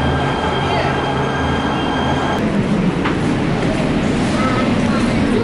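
A Metro Expo Line train arrives at a clean, new station in Santa Monica, its steady rumble filling the platform with a faint squeal of wheels, while people talk in the background.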